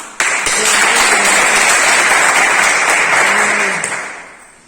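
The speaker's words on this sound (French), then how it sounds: "Je voulais bien qu'ils approuvent par les acclamations." A crowd at an official working visit in N'lonako bursts into loud, continuous clapping with cheering mixed in, holding strong for several seconds before tapering off.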